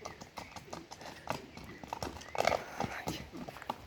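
A horse's hooves clip-clop in an uneven walking rhythm close by, sharp knocks over soft rustling, with faint voices in the background.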